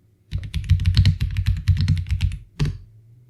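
Fingers type a search on a computer keyboard, a quick, close run of clicky keystrokes that ends in one firmer press, like hitting enter, in a quiet room.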